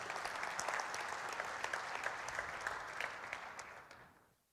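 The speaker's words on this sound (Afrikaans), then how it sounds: "Kom ons gee hulle 'n lekker hande klap." A church congregation gives steady, sustained applause at a moderate distance, holding for about four seconds before tapering off to silence.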